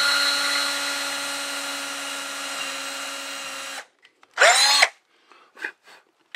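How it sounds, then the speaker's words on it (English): Power drill with a 1/8 inch bit pre-drilling into wood, a loud steady whine for about four seconds, then after a pause a short burst of drilling and a few brief whirs. "I also need to pre-drill into the wood so that we don't split it"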